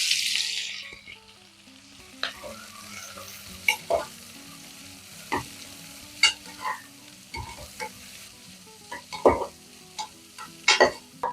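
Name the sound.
chopped onions frying in oil and ghee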